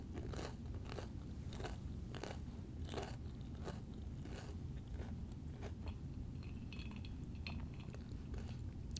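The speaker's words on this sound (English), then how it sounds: "we're eating fried dill pickles." Crunchy fried dill pickles get bitten and chewed close to the microphone, sharp crackling crunches repeating every second or so over a quiet, soft background.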